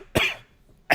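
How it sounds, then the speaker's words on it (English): Two sharp, loud coughs from one person, close to the microphone, separated by a short pause with no talking. "I did not mean to cough right there"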